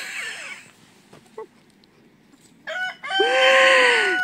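Chickens in a farmyard coop, with scattered soft clucks and then a loud, drawn-out crow-like call close by near the end. No talking.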